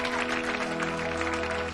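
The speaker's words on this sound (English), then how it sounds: "Give a round of applause, Mel and Sue." Studio audience applause for comedians Mel and Sue at a stand-up comedy show, a dense sustained roar of clapping filling the whole moment at steady loudness.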